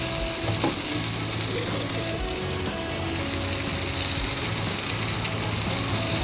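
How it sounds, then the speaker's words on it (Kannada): Benne paddu cooking in butter on a hot pan at a Davanagere shop, a steady dense sizzle and crackle of frying that runs loud and unbroken throughout with no talk. "ಪಡ್ಡನ್ನು ಒಂದು ಕಡೆ ಬೇಯಿಸ್ಕೊಂಡು ತಿರುಗಿಸ್ಕೊಂಡು ಅದ್ರ ಮೇಲೆ ಬೆಣ್ಣೆ ಹಾಕ್ತೀರಾ ಬಟರ್ ಹಾಕಿ"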